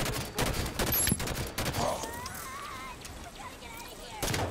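Rapid bursts of gunfire in the video game Halo 5, sharp repeated shots in clusters over game ambience, with a player talking over the action.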